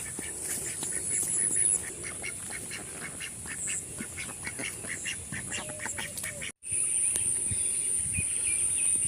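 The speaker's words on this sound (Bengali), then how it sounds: "আজকে রাস্তায় প্রচুর হাঁস, এই যে রাজহাঁস" Geese on a road give repeated honking and quacking calls, moderately close, over a faint outdoor background with a brief dropout near the end.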